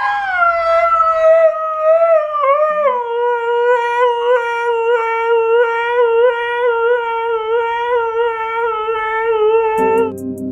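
A husky howls in one long, wavering, mournful note that holds for about ten seconds, close and loud, with no other sounds.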